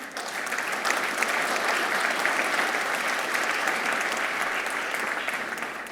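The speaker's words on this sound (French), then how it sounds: "la manageuse du club Delville, la patronne, que je vous demande d'applaudir, Delphine Philippe." Steady applause from a sizeable audience, clapping continuously and fairly loudly for several seconds.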